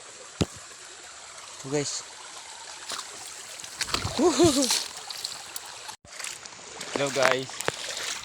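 A river stream flows with a constant soft rush, broken by occasional splashes and trickles close by, as someone talks intermittently over the water.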